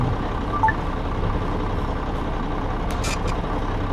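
A city bus in Bus Simulator Pro: Urban Rivals pulls away with a steady low engine rumble and a brief hiss near the end, heard alone at moderate level.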